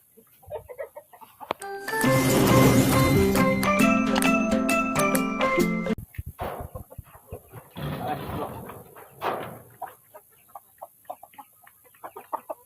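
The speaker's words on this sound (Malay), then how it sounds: "Memang semua ayam-ayam balong ni" Balong chickens in a garden cluck and call, with a loud, close crowing or squawking burst early on, followed by scattered softer clucks and rustling in a quieter yard, and no talking.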